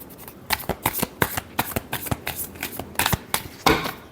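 A deck of tarot cards is riffled and shuffled by hand, giving close, quick flurries of papery flicks in an uneven rhythm.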